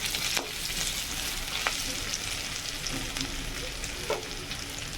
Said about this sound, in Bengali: পেঁয়াজগুলি মোটামুটি একটু ভাজা হয়ে গেলে